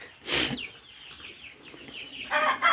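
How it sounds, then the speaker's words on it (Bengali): Chicken chicks clucking and cheeping close by, a loud squawk at the start, then a series of short chirps and a burst of clucking at the end. "মুরগির বাচ্চা"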